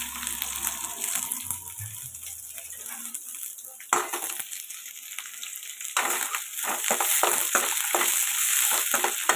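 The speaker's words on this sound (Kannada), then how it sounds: "ಆಮೇಲೆ ಈರುಳ್ಳಿ ಎಲ್ಲ ಹಾಕ್ಕೊಂಡು ಚೆನ್ನಾಗಿ ಫ್ರೈ ಮಾಡ್ಕೊಬೇಕು" Garlic, green chillies and onions fry in oil in a pan, a loud steady sizzle with stirring scrapes and clatter, the hiss growing stronger toward the end.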